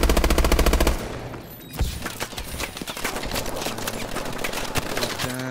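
Rapid gunfire from Call of Duty: Advanced Warfare during a 4v4 Search and Destroy match, a loud rattling burst at the start followed by scattered shots and clatter, with no talk.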